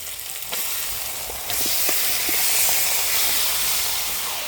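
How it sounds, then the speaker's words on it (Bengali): Washed broiler chicken pieces drop into hot, oil-released spice masala in a pan, bursting into loud, steady sizzling and hissing with a few clinks of stirring, close and without speech. "এবার ধুয়ে রাখা মাংস দিয়ে দেবো।"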